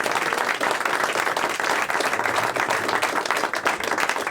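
An audience at an anniversary stage show applauds warmly, a dense, steady burst of many hands clapping that carries on without pause.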